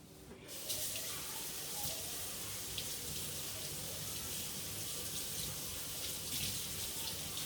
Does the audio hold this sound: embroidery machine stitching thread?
no